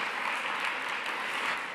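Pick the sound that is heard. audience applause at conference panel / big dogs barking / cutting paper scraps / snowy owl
audience applause at conference panel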